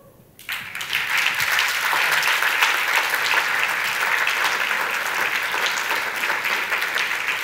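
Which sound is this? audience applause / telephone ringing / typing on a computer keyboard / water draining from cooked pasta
audience applause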